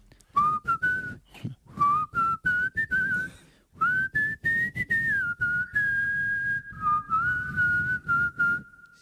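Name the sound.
person whistling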